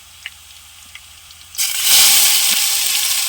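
Tomatoes dropped into hot tempering oil for a village-style drumstick curry burst into a loud, sudden sizzle that hisses steadily and stays close after a quiet start with a few faint clicks.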